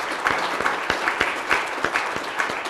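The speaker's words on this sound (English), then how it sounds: "Let's have her hear another round of applause for these students." An audience at a community forum applauds student essay contest winners. The short burst of clapping is light and scattered, with individual claps clearly distinct.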